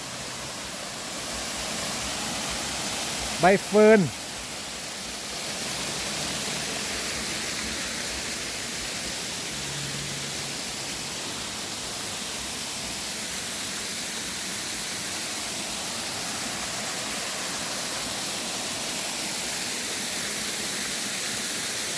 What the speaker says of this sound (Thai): ดูหลังน้ำตก โอ้ น้ำตกนี่ไปอยู่กลางเลย